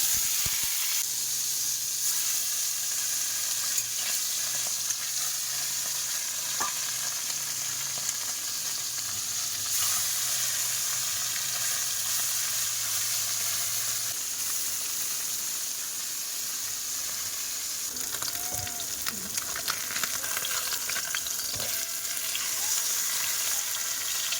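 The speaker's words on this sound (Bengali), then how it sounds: "এদিকে এই যে মাছ ভাজা হচ্ছে" Fish frying in a little oil in a pan, with potatoes frying alongside, giving a steady, continuous sizzle and hiss that runs throughout at a moderate level, with a few faint clinks.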